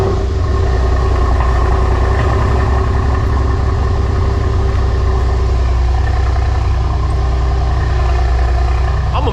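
A 500hp V8 car engine idles in a loud, close, continuous low rumble that stays steady throughout with no break.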